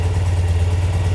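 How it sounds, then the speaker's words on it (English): A 1971 BMW R75/5 motorcycle engine, still cold, idles at around 1100 RPM with a steady, close, low throbbing rumble and light mechanical clatter. "Idles at about 1200, well, 1100 RPM."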